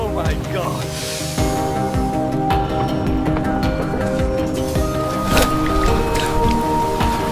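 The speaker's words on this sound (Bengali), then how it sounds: "রেল পাগলা বৃষ্টিতে ভিজে একাকার।" Rain sound effect under a narrated Bengali story about a railway line, steady patter with splashy bursts and a rumble, mixed beneath a voice telling the story.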